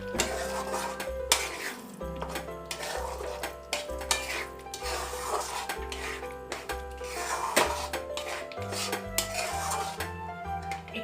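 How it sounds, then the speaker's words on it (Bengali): Fried potatoes being stirred in gravy in a pan give repeated scraping and rubbing strokes of a utensil against the pan, close and rhythmic, with a faint background tone. "এবার এই গ্রেভিটার মধ্যে আমরা যেটা আলু ভাজাটা ছিল সেইটা দিয়ে দেবো, দিয়ে আলুটা দিয়ে খানিকক্ষণ একটু কষবো।"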